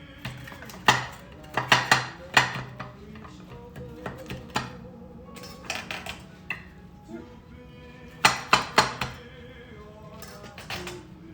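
A big knife cuts down through a baked eggplant parmesan casserole with crispy topping and mozzarella in a small dish, giving clustered clinks and scrapes against the dish in several bursts, close and fairly faint.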